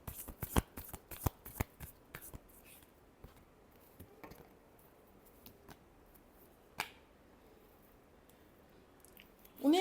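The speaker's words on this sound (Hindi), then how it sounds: "Last shuffle." Tarot cards shuffled by hand in a quick burst of crisp, riffling slaps, then scattered softer taps and a few isolated card snaps, close and clear with no talking.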